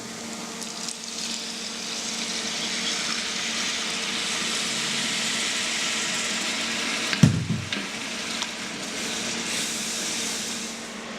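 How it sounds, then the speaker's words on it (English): White wine poured into a hot pan of tomato puree for arrabbiata sauce, producing a steady, close sizzling hiss with a brief splash and louder bubbling midway. "So now I'm going to add our white wine."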